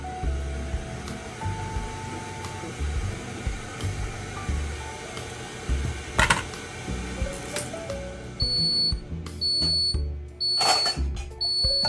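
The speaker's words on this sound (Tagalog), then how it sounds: "meron siyang beep na maririnig pagkasaksak mo" A Unox countertop oven gives a series of short, high electronic beeps when plugged in, repeating several times toward the end over a steady fan-like hum and handling noise.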